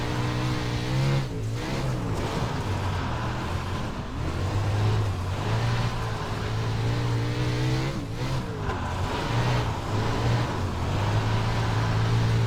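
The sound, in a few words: wingless sprint car engine in iRacing video game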